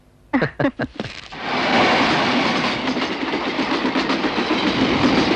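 A train rolls past on the railway track right beside a house, opening with a few heavy rhythmic clunks of wheels over rail joints, then settling into a loud, continuous rushing rumble and clatter that stays close throughout.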